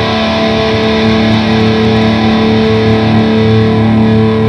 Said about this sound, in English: what I'm using for my distortion pedal, it's the KHDK Dark Blood pedal